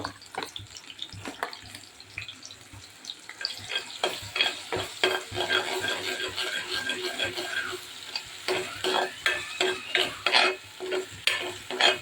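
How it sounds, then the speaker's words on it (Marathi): Phodni for a fish curry (machhi saar) crackles and sizzles in hot oil while a spoon stirs and clicks against the pan in an uneven rhythm, close and continuous for about twelve seconds. "तर मस्त आपण फोडणी देणार आहोत"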